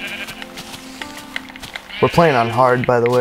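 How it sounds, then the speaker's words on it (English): In the video game Minecraft, several wavering sheep bleats ring out near and loud after a voice speaks over quiet game sounds, the bleats overlapping and rising and falling in pitch. "Let's get the sheep here."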